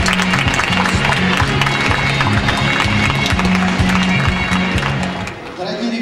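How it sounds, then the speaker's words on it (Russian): An audience at a Spivakov Foundation music competition selection round gives loud, dense applause that fills the room. The clapping stays steady and close, mixed with some voices, then fades briefly near the end. "Под ваши аплодисменты."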